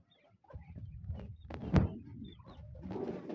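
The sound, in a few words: pigeons cooing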